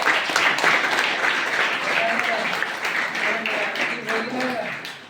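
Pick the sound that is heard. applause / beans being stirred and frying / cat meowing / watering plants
applause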